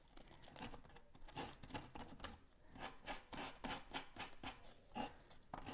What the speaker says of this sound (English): just sanding in those edges